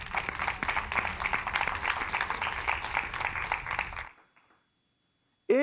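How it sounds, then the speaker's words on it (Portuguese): A church congregation applauds steadily with dense clapping, then the applause stops abruptly, leaving near silence before a brief sound at the end. "Eu creio que você pode dar uma salva de palmas a essa verdade."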